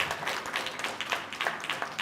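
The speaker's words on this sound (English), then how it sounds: "Can we just give the CEO another round of applause?" An audience at a labour activation programme event claps for the CEO, a short burst of moderately loud, scattered hand clapping.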